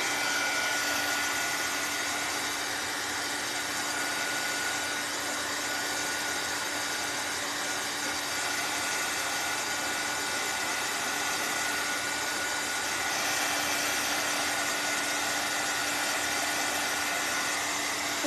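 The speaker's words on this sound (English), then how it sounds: "Let me hit these with the dryer." A steady, loud whooshing of a dryer blowing on wet paint, running without pause, with a faint mechanical hum underneath.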